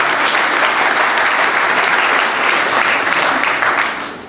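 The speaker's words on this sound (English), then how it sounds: "Why don't we clap for them for what they have done for us?" An audience at a Pan-African event in Kenya applauds steadily and loudly, dense clapping holding evenly throughout before easing off slightly at the end.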